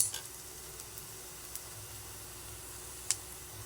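Sardines frying in a pan with sautéed onion and garlic give a soft, steady sizzle close by, with a few faint sharp pops and spatters and no talking.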